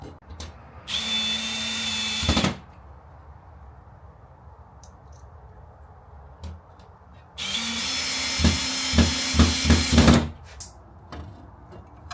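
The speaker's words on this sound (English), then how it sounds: "you got to drill this in the back of the actual wall" A power drill whirs loudly in two bursts while drilling into a wall to mount an outdoor LED wall sconce, a short run then a longer one with pulsing revs, separated by quiet shuffling.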